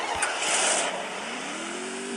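A motorcycle engine in the Free Fire video game revs steadily, a continuous buzzing engine tone rising slightly in pitch, close and fairly loud with no talking.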